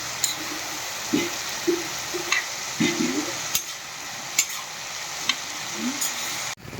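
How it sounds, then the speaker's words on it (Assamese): Dhekiya fern greens sizzle steadily in a hot pan while a spoon stirs them, giving irregular scraping clicks and knocks over the constant frying hiss, close and fairly loud, with no talking. "এই ঠিকিয়া দিলো ভাজাত ঠিকিয়া শাকটো হিলাই আছোঁ মই"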